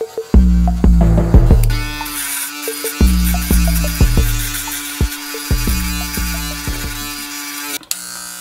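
Electric hair trimmers buzz loudly and close during a self haircut on 360 waves, the motor's harmonic hum broken by repeated clicks and clipping bursts as the blades pass through short hair.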